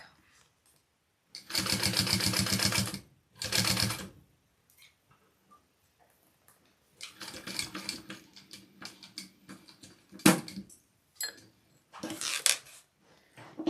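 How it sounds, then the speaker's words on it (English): A home sewing machine top stitches fabric on a small zippered pouch in bursts of rapid mechanical whirring, a couple of sustained runs and then shorter stop-start stitching, with a person talking quietly in between. "so I'm going to top stitch this now"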